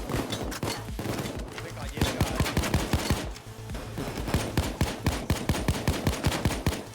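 Rapid automatic gunfire during a Payday 2 heist, dense bursts of repeated shots hammering almost continuously at close range, with a voice talking over the shooting.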